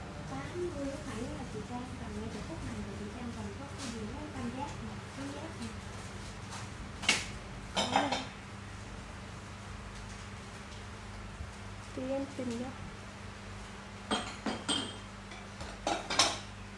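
Japanese ceramic plates and pots clink and knock in scattered bursts as they are handled, with a sharper cluster near the end, under nearly continuous conversational talk.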